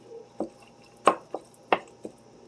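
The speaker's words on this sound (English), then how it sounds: "I'm going to take my spoon here and just break up the sausage." A spoon breaking up Jimmy Dean ground sausage as it cooks in a pan gives five separate soft scraping, squishing taps, close by and fairly quiet, with no talking.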